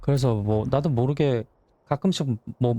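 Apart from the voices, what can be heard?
No everyday noises stand out.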